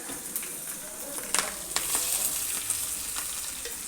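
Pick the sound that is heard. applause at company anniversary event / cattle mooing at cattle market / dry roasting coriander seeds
dry roasting coriander seeds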